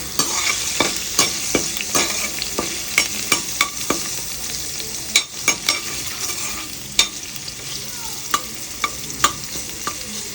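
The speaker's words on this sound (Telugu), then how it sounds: "లవంగ మొక్క, యాలక్కాయ, దాల్చిన చెక్క, పలావ్ పువ్వు, మరాఠీ మొక్క, పలావ్ ఆకులు వేసుకుని బాగా ఫ్రై చేసుకోవాలి." Cloves, cardamom, cinnamon, bay leaves and other whole spices fry in a pan, a loud continuous sizzle with many crisp, regular spatula clicks and scrapes close up.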